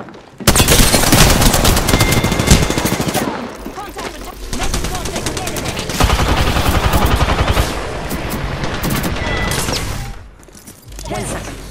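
Dense automatic gunfire rattles almost without pause in an Apex Legends match, loud and close, with bursts from several weapons and brief lulls, while in-game character voice lines sound over the shooting.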